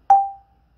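A single Orff xylophone bar struck once with a mallet during a music lesson, giving one clear, close tone with a sharp attack that rings and fades out over about a third of a second, with no voices.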